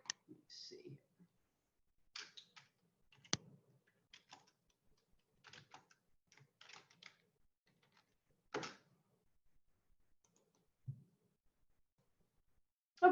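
Computer keyboard keys tapped while an address is entered into Google Maps, heard as scattered short bursts of clicks with pauses between them, fairly quiet and close.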